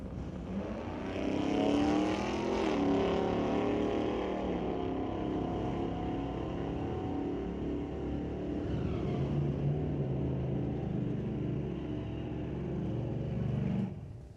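Drag race cars at a strip, one of them a Chevelle, roaring loudly down the track, a steady dense engine blare that swells, holds and fades, with commentary faintly beneath.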